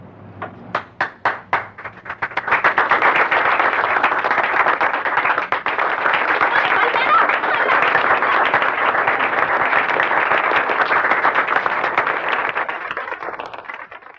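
Audience applause that opens with a few separate claps, then swells into loud, dense, sustained clapping that holds evenly for over ten seconds before cutting off.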